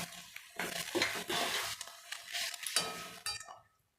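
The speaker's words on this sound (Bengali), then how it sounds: "আর ওই মশলাগুলো আমি নাড়তে থাকবো।" Spices including turmeric and chili powder stirred in oil in a pan, close and steady scraping and clinking of a spoon against the pan with a faint sizzle, stopping abruptly at the end.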